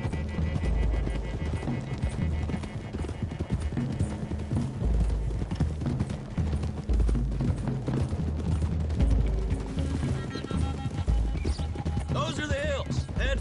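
Horses' hooves clop steadily as riders travel along a road in the video game Red Dead Redemption 2, a continuous rhythmic clip-clop of several mounts heard close over a busy game soundscape.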